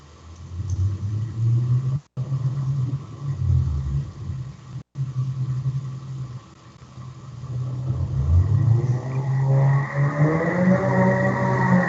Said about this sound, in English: the sounds of the city street are going on in the background doing their thing. Oh, people have the loudest motorcycles and cars around here.